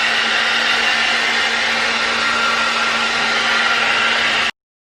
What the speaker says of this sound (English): I'm gonna put my blow dryer on hot